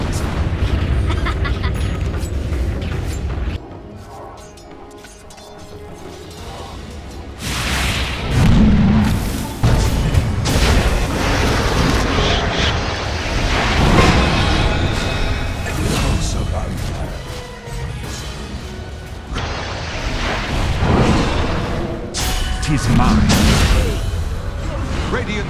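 A tower crumbling in a Dota 2 match brings repeated heavy booms and crashing impacts over continuous battle noise, while an announcer's voice talks over the action.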